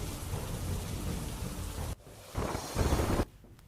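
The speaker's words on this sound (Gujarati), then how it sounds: "પોરબંદર જિલ્લામાં અનરાધાર વરસાદ છે તે વરસાદ પડી રહ્યો છે।" Heavy monsoon downpour in Porbandar, Gujarat, with a steady dense roar of rain that falls in level and then surges louder in bursts before dropping off, with no voices.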